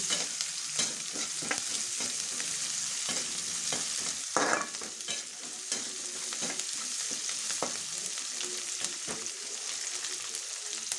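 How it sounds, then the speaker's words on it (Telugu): Drumstick leaves fry in a pan with a steady, close sizzle, broken now and then by scraping stirs. "ఇవి కొద్దిసేపు వేగనిద్దాము"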